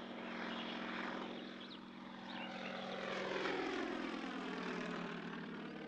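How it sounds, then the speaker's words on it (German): A crop-spraying propeller airplane flies low over a forest about ten metres above the treetops during pest control, its engine drone steady and loud throughout, swelling slightly as it passes. "Das Flugzeug fliegt in einer Höhe von 10 Metern über dem höchsten Baumbestand."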